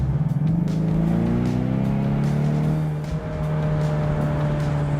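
A Ford Mustang EcoBoost with a 2.3-litre turbo engine accelerates hard in Sport Plus mode, its loud engine note rising steadily in pitch through the gear, close and alone with no talk.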